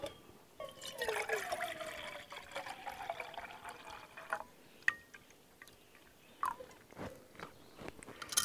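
River water, 12 fluid ounces, is poured into a Mountain House chicken fried rice pouch outdoors, a close, uneven trickle and splash with a few sharp crinkles and drips of the pouch.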